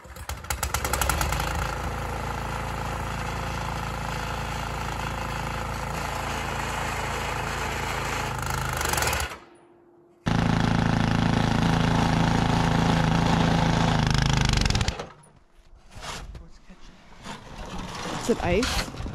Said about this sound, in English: We use the PowerMax 828, clear out those pads.